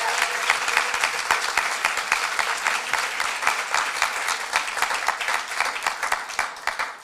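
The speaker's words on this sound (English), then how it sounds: "Let's give another round of applause for the incredible entrepreneurs in the room today." At an entrepreneur showcase event, the room claps for presenting entrepreneurs: a moderately loud crowd applause with distinct individual claps standing out in an uneven, rippling rhythm, fading at the very end.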